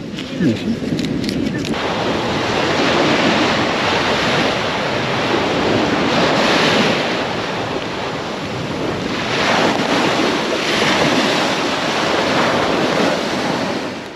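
Surf and gusting wind on a Crete beach strewn with driftwood and plastic, a steady loud wash of waves with wind buffeting the microphone throughout.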